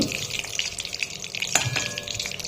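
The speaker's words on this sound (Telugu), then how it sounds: "మనం కొంచెం కొంచెంగా వీటిని ముక్కలు కూడా వేయించుకోవాలి" Pieces of green jackfruit curry fry in a pan with a steady crackling sizzle, punctuated by a few brief stirring scrapes and a sharper clatter midway.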